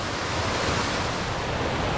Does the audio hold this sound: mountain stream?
yes